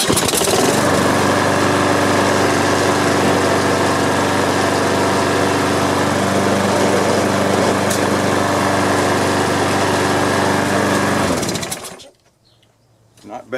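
Troy-Bilt lawn mower engine running close by, a steady loud buzzing drone that holds for about eleven seconds, then cuts off and leaves near silence.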